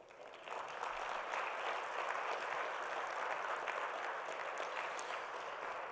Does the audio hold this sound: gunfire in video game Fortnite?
no